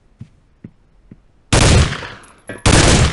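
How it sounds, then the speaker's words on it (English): In Soldier of Fortune II, the M4 rifle's underslung grenade launcher goes off as an alternate fire, two loud, close blasts after a few faint clicks. "Your M4, for example, has a grenade launcher mounted to it."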